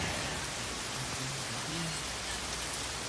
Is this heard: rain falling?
yes